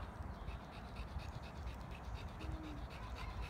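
Mona, a vegan dog, pants rapidly and rhythmically while running downhill and uphill, heard close and fairly faint against outdoor background noise.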